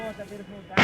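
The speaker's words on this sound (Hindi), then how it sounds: "तो फिर कंट्रोल्ड एनवायरनमेंट में उसको एक्सप्लोड कराया जाता है।" Security forces carry out a controlled detonation of a militant-planted IED bomb in Chanapora, Srinagar. A single sudden, loud blast bursts in at the very end, after a short stretch of a voice in the background.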